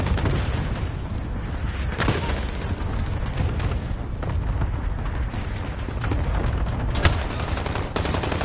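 Sniper rifle fire in the video game Modern Warfare: a couple of sharp, booming shots stand out over a dense, steady wash of in-game battle noise, with no talking.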